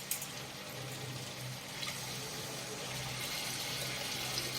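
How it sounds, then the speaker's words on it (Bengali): Water is poured into mutton gravy cooking on a stove, a gentle, continuous pouring and trickling splash heard fairly faintly without speech. "এবার জল দিয়ে দেব।"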